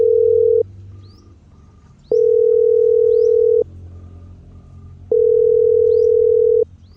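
Phone call tones ring out as someone places a call. Three long, loud, steady tones are separated by short gaps of quiet.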